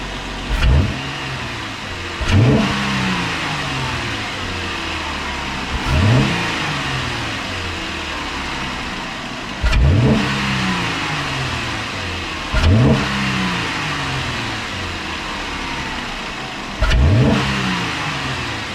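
A 2015 Jeep Wrangler engine fitted with a custom 3-inch intake with built-in heat shield, heard close up as it is revved repeatedly: six sharp throttle blips rise and fall over a steady idle, with no talking.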